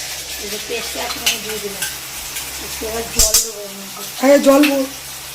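Whole garam masala spices frying in ghee, a soft sizzle with scraping and clinking of stirring, under intermittent talk.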